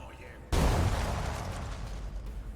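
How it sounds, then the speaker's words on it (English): A sudden loud blast erupts in the Rogue Trader video game, a sharp onset followed by a rumbling, crackling tail that slowly fades over a couple of seconds. "Except for that explosion to your left there."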